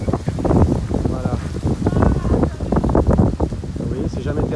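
Strong wind buffeting a microphone aboard a sailboat running downwind, a continuous gusty roar with rumbling pulses throughout.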